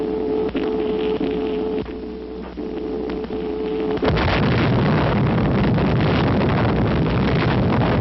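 The 1946 atomic bomb test at Bikini, captured on old film sound: a thin hum and scattered crackle, then a sudden heavy roar of blast rumble that holds steady to the end.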